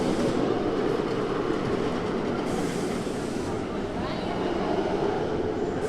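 Jersey Devil roller coaster train at Six Flags Great Adventure roaring along its track, a loud continuous rumble with rattling wheels and a whooshing edge, steady throughout the ride section.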